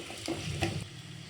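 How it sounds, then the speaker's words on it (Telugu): Onions and asafoetida sizzle in hot oil in a pan as a tempering for dal rasam, a steady close frying hiss with a faint stir or two. "ఇవన్నీ మంచిగా గోల్డెన్ బ్రౌన్ వచ్చేదాకా వేయించుదాం"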